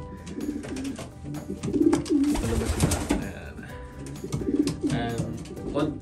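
Racing pigeons coo in a loft, giving repeated low, throaty calls in bursts over scattered rustling, with a voice speaking nearby.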